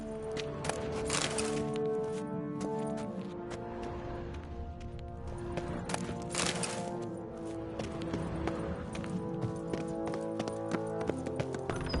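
Hooves clop in a steady, fast rhythm as a horse runs in The Witcher 3 video game, with faint creaks and cracks mixed in under a quiet background.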